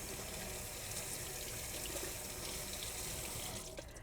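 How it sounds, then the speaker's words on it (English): Steady gush of water from a running kitchen faucet as zucchini are washed under it, a continuous close hiss with faint handling clinks near the end. "Now I'm going to wash them under the sink,"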